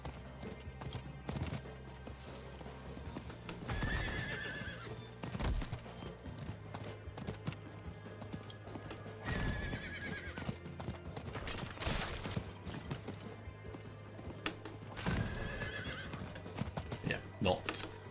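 Horse riding in the Diablo 4 video game, with repeated whinnies and neighs over steady clip-clopping hooves and game music.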